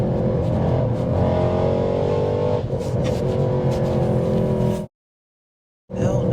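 A tuned 780 bhp Weistec Mercedes C63 with IPE downpipes and headers accelerates hard, its loud, roaring exhaust climbing through the revs, then cutting out abruptly before returning briefly; a voice exclaims once.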